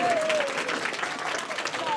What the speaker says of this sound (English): Just thank them now. Applause.